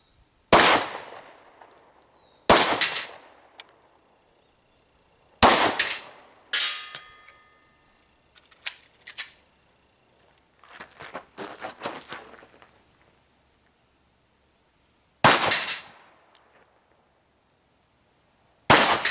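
Gunshots ring out on a shooting range, each followed by the sharp metallic clang of a steel silhouette target, spaced a few seconds apart with some quicker pairs and faint handling noise between.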